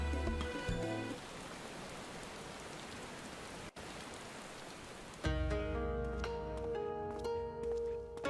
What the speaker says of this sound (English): The rain's gone mysteriously.